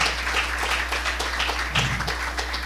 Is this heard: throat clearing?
no